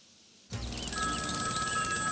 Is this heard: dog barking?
no